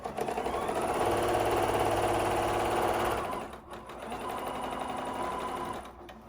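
Sewing machine steadily stitching binding onto a fabric basket, a close, continuous rhythmic hum and rattle that dips briefly midway and then carries on at a slightly lower level.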